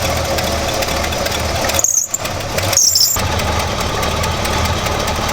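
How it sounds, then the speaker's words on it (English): A 454 big block engine in a Squarebody truck idles with a steady rumble. Its upgraded big-alternator belt cuts through twice in brief, high-pitched squeals. "Very annoyingly, this thing is still squealing"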